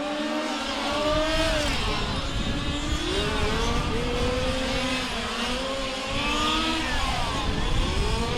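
Large-scale RC race cars, including a G4Z-powered Harm, circle a track at the 2015 IFMAR Large Scale Worlds, their small engines buzzing and whining in overlapping rising and falling sweeps, a dense continuous pack sound throughout.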